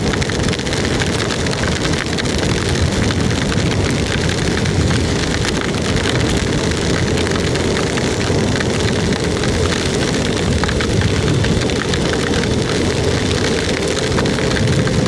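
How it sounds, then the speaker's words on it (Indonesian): Heavy rain pours steadily and loudly on the road to Toli-Toli, a dense continuous hiss with no pauses and no voices over it. "hujannya tetap masih deras ini teman-teman"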